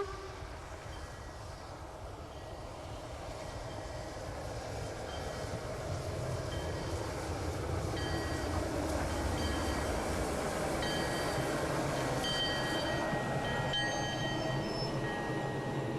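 A vintage steam locomotive hauling six full passenger cars labors up a steep grade at Glenbrook Vintage Railway, its heavy chuffing and rumble growing louder as it nears, with metallic rail squeals and rattling cars rolling past.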